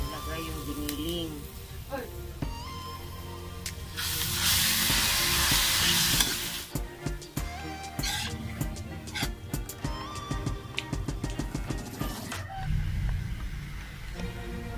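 Ground meat and onion frying in a pan, a loud burst of sizzle followed by rapid clattering of a spatula stirring against the pan, with a person speaking at times.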